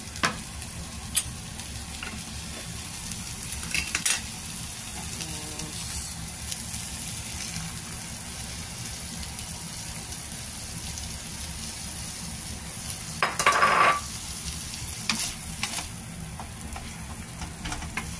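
An egg fries in a small amount of cooking oil in a pan, a steady moderate sizzle with occasional stirring clatter and one louder burst of crackling near the end.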